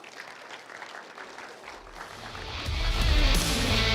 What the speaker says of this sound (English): Big round of applause, ladies and gentlemen, for this articulate speech.